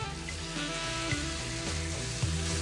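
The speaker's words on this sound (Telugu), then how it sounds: "ఇప్పుడు దీనిలో మనం చికెన్ వేసి వేయించుకుందామండి." Chicken fries with garlic and ginger in a hot pan, a loud, continuous broadband sizzle under a steady low hum, with a couple of brief knocks, close and with no talk.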